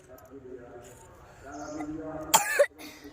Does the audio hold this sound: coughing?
yes